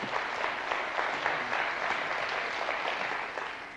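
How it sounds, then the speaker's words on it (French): Studio audience applauding on the French TV quiz show Questions pour un Champion, a continuous, even roar of many hands clapping at once, steady and fairly distant, with no talking over it. "Et ils ont raison d'applaudir."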